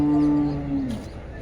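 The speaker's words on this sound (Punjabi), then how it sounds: "ਬਹੁਤ ਚੰਗੀਆਂ ਮੱਝਾਂ ਮੰਡੀ ਰਾਮਪਰਾ ਤੇ ਪਹੁੰਚੀਆਂ ਹੋਈਆਂ" A single drawn-out buffalo moo rings out at Rampura cattle market, loud and close, sliding down in pitch near the end before fading into quiet market background.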